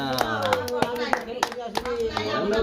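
A child claps hands in a quick, uneven run of sharp, close claps while people talk over them.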